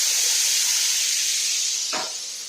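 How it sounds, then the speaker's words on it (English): Hot broth hits a hot pan during a deglaze, giving a steady, loud hiss of sizzling steam that holds for a couple of seconds, with a brief splash near the end. "I'm just going to deglaze that"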